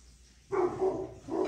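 In a backyard, a 12-year-old dog barks up at a squirrel in a tree, letting out a sharp, loud bark after a brief quiet moment, then a second bark close on its heels, both near and clear.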